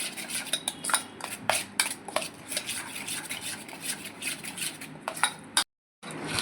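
A spoon mixing semolina (sooji) batter in a bowl, heard as rhythmic scraping and clinking strokes, close and continuous, with one brief silent gap near the end.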